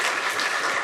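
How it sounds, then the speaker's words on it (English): Applause from an audience at a queer comics publishing panel during a Pride celebration, a dense steady wash of many hands clapping, close and continuous for under a second with no voices on top. "Let's give them a round of applause."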